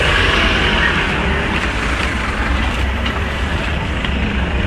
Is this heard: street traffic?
yes